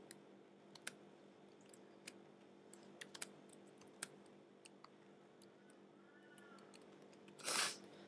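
Sparse, faint keyboard clicks tap out a Skype name, single keystrokes spaced irregularly at close range, ending with a short louder rustle.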